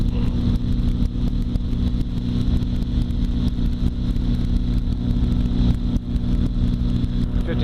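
Aircraft engine held at 5,500 RPM during a climb after take-off from Carson City airport, a loud steady droning roar that stays constant throughout with no voices over it.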